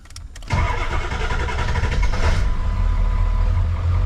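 A Ford 7.3 diesel engine in a junkyard truck cranks briefly and then fires. It settles into a loud, steady, rumbling idle, close up, with no talking.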